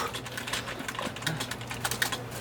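Quick, steady keystrokes on a desktop computer keyboard in a home room, close and fairly quiet, with no talking.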